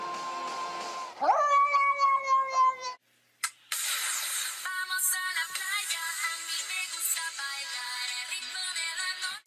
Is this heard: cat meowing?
yes